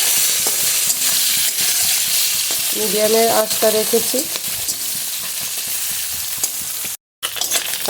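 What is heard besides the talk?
fish frying in a pan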